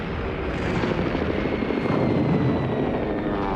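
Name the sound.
Francoist warplanes attacking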